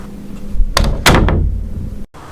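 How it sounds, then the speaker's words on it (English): A door swings open and then shuts with a solid thunk, followed by a second muffled knock, close and loud against a quiet indoor room tone, used as a sound effect. "She heard the door open and close, leaving her alone."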